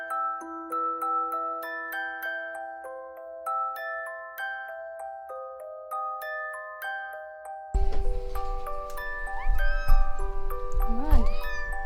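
A house cat gives a couple of short meows close by near the end, over room noise, after a stretch of gentle chiming music-box-like notes.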